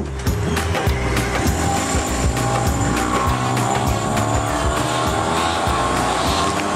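A car being driven off to the roadside and parked during a Pakistani drama scene, its engine and tire noise rolling steadily and fairly loud for several seconds with no talking.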